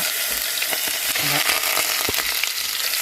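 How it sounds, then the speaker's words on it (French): Tlitli pasta browns in butter in a pan, giving a dense, steady close-up sizzle with faint stirring scrapes and small crackles throughout, no talking. "Je vais la faire dorer d'abord. Donc je la fais dorer des deux côtés"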